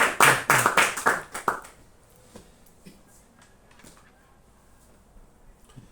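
Brief applause rises from an audience at a book presentation, a short burst of clapping lasting under two seconds before it fades into quiet room noise with scattered small taps.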